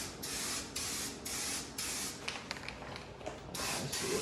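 Hissing bursts of a paint sprayer coating a Honda CRX engine bay, several long sprays separated by brief pauses, loud and close, with a few faint clicks between.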